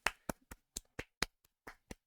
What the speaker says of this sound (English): Claps. Claps all around.